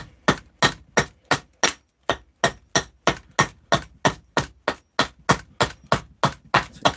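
Axe blows striking a wooden wedge piece in steady succession, about twenty sharp, loud, close impacts at an even rhythm of roughly three per second, each with a brief ringing decay.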